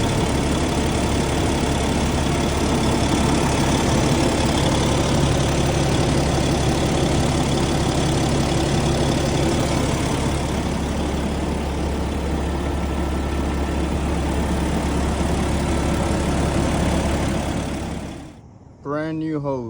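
Steady, loud low rumble of a Cummins ISX15 diesel truck engine idling after a blown coolant hose for most of the clip, then it cuts out abruptly near the end.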